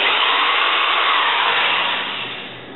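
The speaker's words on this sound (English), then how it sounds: "now I can take out my screwdriver and just throw the countersink. We can widen these up a bit so that those heads will sit below." A drill driver fitted with a countersink bit widens screw holes on a miter sled, giving a steady, close, loud whir that fades slightly toward the end.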